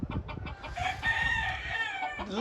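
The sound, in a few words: rooster crowing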